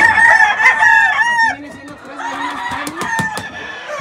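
A rooster crows loudly and close in a long drawn call, followed by softer clucking and scattered bird chatter.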